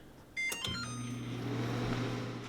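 Microwave oven on high heating a whole pepper: a short run of beeps as it starts, then a steady low hum that runs on alone.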